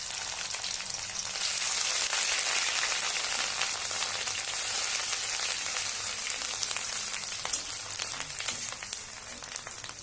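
Chopped onion dropped into hot oil with a bay leaf, a loud, dense, continuous frying sizzle that crackles steadily throughout, close and unbroken by speech.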